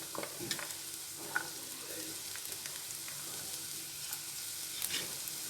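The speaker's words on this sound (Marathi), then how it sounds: "आता फ्रेंच बीन्स आणि गाजर मी चांगलं परतून घेणार आहे." French beans and carrots sautéing in oil over a low flame after garlic, a soft continuous sizzle with occasional light stirring clicks, quiet and close, no voices.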